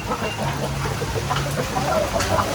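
Chickens clucking on a farm, a steady low murmur of several birds close by with a constant background hum and no clear crowing.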